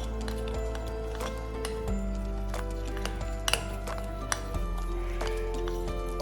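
Paneer tikka kebab masala being mixed with lemon juice, soft wet squishing and occasional clinks of a spoon against the bowl, steady and close with a low background hum.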